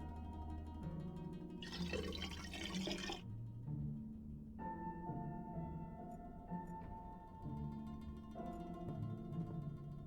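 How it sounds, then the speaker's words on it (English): Water poured into a pot in the Black Mirror 3 video game, a short burst of splashing liquid lasting about a second and a half amid steady background music, with no talking. "I'll just pour in a bit of water."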